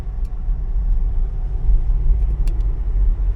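A car engine drones steadily from inside the cabin on a drive through the quiet countryside of Cercal do Alentejo toward the beach, a continuous low rumble with road noise, with no voices.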